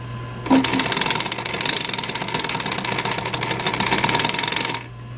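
Sewing machine stitching a seam on a car headrest cover, a steady motorized whir running about four seconds with a brief start click, then stopping abruptly; no talking.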